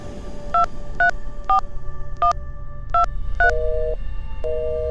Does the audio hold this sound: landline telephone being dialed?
yes